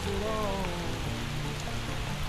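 Steady rain falls on a window pane in a continuous close hiss, with a faint tonal hum and brief murmur early on.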